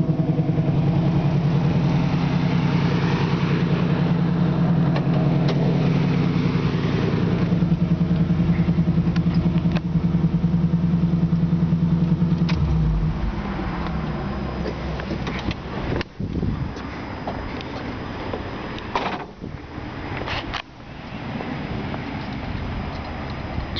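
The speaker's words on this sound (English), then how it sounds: "You can hear that exhaust," Exhaust of a 1973 Camaro Z28 with a new engine, a steady loud idle rumble for about twelve seconds that then drops to a quieter, uneven running with occasional clicks.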